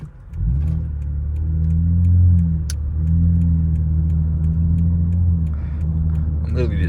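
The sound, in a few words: Lexus ES350 car engine drone while driving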